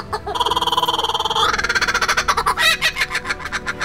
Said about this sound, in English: there's a lot of interesting animals like this laughing bird who would just mimic us